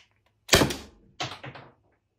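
Byrna Salt S2 / Umarex less-lethal launcher firing a single shot, a sharp loud crack followed about a second later by a couple of softer knocks, otherwise quiet.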